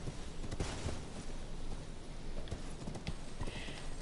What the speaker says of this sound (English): So I can use my horse.